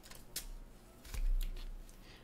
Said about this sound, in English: Just let me cut this off.